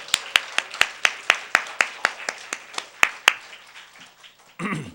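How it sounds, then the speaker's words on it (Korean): A church congregation claps in encouragement during a Sunday service, with about fourteen sharp, evenly spaced claps in a steady beat that taper off, followed by a brief voice at the end. "우리 격려의 박수를 좀 드리겠습니다."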